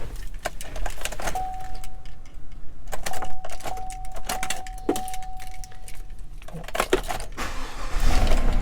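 Keys jangle and clink near the ignition of a used 2016 Chevrolet Silverado 1500 pickup, several short metallic rattles around a steady chime tone, with a low rumble as the engine seems to catch at the end.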